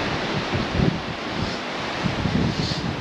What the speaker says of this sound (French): ça souffle.